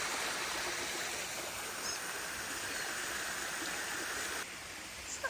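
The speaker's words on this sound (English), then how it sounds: "Little waterfalls." Small waterfalls tumbling along a stream in a park, a steady close rushing wash of water that holds constant throughout, dropping slightly in level near the end.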